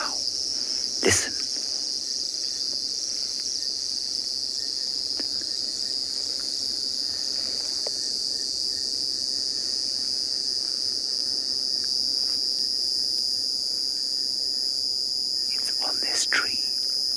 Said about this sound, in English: It is a cicada, or as they say in the United States of America, a cicada.